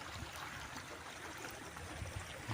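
Small creek on a sloping farm lot in Siniloan, Laguna, flowing with a steady, soft trickling wash of water, faint and continuous with no voices.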